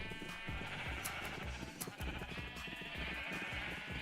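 Sheep in the Minecraft video game bleating repeatedly at a steady, even rhythm, moderately loud and alone, with no talking.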